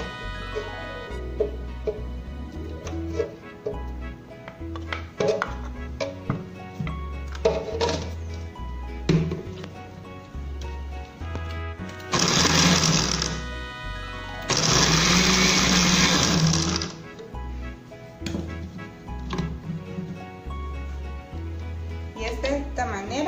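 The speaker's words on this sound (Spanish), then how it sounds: "Vamos a empezar a moler la carne de esta manera." Beef being ground with a meat grinder, onion and salt added, for a Mexican salpicón; a low rhythmic churning runs throughout, with two loud sustained motor bursts partway through.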